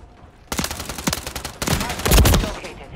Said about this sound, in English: I tried shooting from the hip.